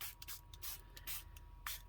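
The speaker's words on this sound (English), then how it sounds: "So let's just spray on here" A spray bottle mists vintage photo ink mixed with water onto collage paper in several quick, close hissing bursts with brief gaps between them.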